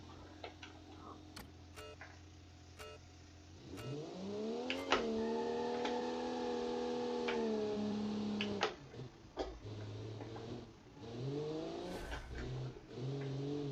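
A rear-wheel-drive family car in the BeamNG driving game revs and accelerates on a street course, engine tone climbing and shifting through gears with ticking clicks and bumps in between.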